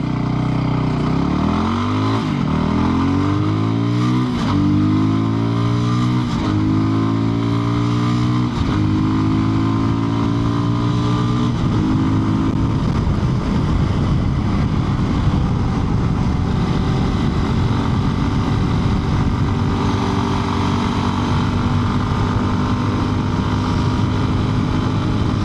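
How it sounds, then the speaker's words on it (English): A Voge 300 Rally motorcycle with standard gearing accelerates hard through several gears, engine pitch climbing and dropping at each shift before settling into a steady high cruising drone with heavy wind rush, no talk. "let's get this bike up to 60 miles an hour and see how it pulls through the gears"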